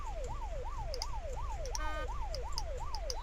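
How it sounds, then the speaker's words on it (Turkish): A wailing vehicle siren in the video game Unturned sweeps up and down in a steady rapid cycle, loud and continuous, with faint electronic blips in the background. "Lan şu sireni, siren sesini nasıl durduracağız?"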